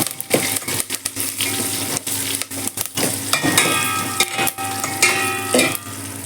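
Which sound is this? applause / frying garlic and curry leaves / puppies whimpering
frying garlic and curry leaves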